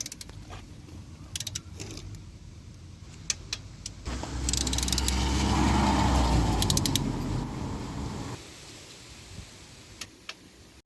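A ratchet tightens cylinder head bolts on a Nissan Micra K11 engine: sparse sharp clicks at first, then a few seconds of louder, steadier grinding ratchet turning, followed again by scattered clicks.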